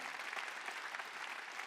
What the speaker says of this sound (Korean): 박수 치라 이게.